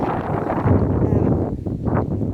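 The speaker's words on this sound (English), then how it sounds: "So it's really windy here today too." Wind buffets the microphone outdoors near chickens and goats in a continuous low, rumbling roar with uneven gusts.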